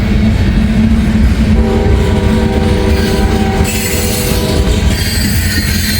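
A CSX freight train rolls past a crossing, its steady heavy rumble and wheel noise running throughout, while the horn sounds in several sustained tonal blasts partway through.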